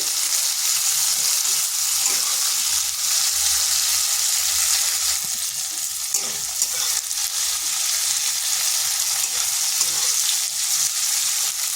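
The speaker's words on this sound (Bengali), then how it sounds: "বরবটিটাকে হালকা ভেজে নিচ্ছি" Long beans (barbati) rubbed with salt and turmeric fry lightly in oil, a loud, continuous close-up sizzle with occasional soft stirring scrapes throughout, no one speaking.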